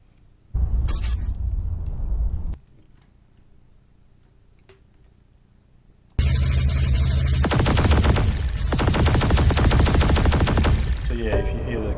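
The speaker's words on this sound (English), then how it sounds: "Let's try the Griffle machine gun." Rapid automatic fire from the Griffle machine gun in a video game: a short burst, a lull of low hum, then a long, loud, dense stream of shots.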